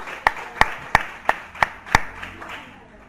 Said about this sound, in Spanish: Vamos a brindar un fuerte aplauso a nuestro Dios